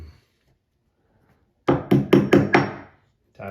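A wooden baluster piece being tapped into place on a stair railing, five firm knocks in a quick, steady run, close and loud, followed by a brief pause and the start of another hit.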